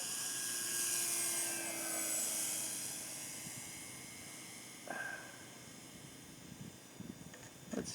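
A large HSD Cessna 182 radio-controlled model plane, 2000 mm wingspan on 6S power, flies overhead on its maiden flight with a steady high electric-motor whine that is loudest early on, then drifts farther away and fades, with a few faint knocks near the end.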